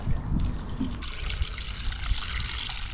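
Water trickles and splashes steadily onto soil around newly planted garden plants outdoors, a close, continuous pour with no voices.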